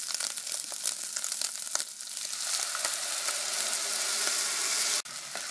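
Ground beef, bacon and onion fry in a pan for country gravy, giving a dense, steady sizzle with faint crackles that swells slightly before a brief break near the end. Sound is close, and no talking.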